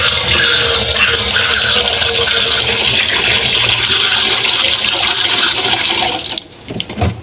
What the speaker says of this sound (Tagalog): Lagyan muna natin ito ng konting tubig.